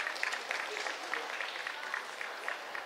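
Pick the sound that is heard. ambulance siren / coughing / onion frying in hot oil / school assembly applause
school assembly applause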